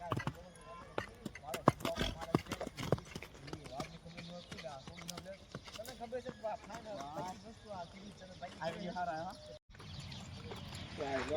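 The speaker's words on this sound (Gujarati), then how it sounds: "તો આ ભાઈ ની ઘોડી છે" A Kathiyawadi mare moves while being trained, her hooves clip-clopping in uneven rhythmic bursts close by under steady outdoor talking from several people.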